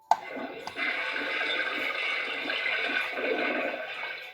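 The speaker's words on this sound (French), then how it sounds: "Nous allons pouvoir tirer la chasse d'eau" A toy doll toilet flushes with a steady rushing, gurgling swirl of water that runs for several seconds after a brief click at the start.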